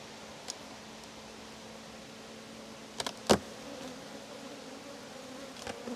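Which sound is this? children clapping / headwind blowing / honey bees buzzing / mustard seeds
honey bees buzzing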